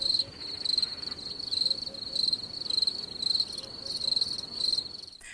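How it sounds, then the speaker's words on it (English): Crickets chirp in steady repeating pulses as a comic sound effect, a high shrill trill recurring evenly throughout over a faint background hum. "Cue the crickets."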